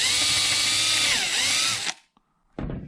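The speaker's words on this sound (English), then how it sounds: "I drilled right next to it, and the pin came out." A power drill bores into the plastic tip of a G&G Predator airsoft gun, whining loud and close for about two seconds with a dip in pitch as it bites, then stopping before a brief second burst.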